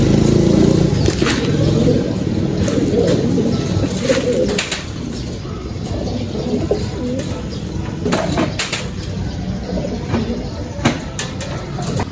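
Racing pigeons coo in low, repeated bursts before release, close and clustered, under scattered knocks, shuffling and a distant motor hum.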